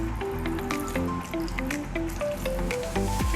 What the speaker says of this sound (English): Just going to add some water now.